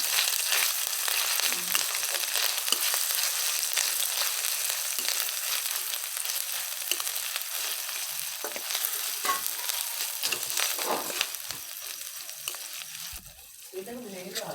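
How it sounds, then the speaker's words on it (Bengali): Onion, garlic paste and ginger paste sizzle and crackle steadily in a hot pan, a dense continuous frying hiss with occasional stirring scrapes and no talking. "এগুলোকেও একটু ভালো করে লাল লাল করে ভেজে নেব"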